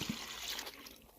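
Water is poured by the cup into a cooking pot while making conchas, a brief splashing, trickling gush, close and moderately loud.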